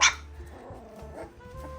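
A Belgian Malinois puppy, one of a litter of seven, gives a single loud, sharp bark right at the start, followed by quieter rustling and low background noise.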